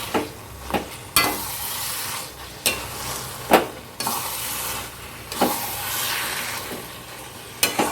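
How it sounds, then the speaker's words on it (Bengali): Bombay duck (loitta) fish stirred and fried in a pan: a continuous sizzle broken by repeated sharp scrapes and knocks of the spatula at irregular intervals, close and clear with no talking. "এগুলির সাথে ভালো করে মাছটাকে মিক্সড করে নিয়ে"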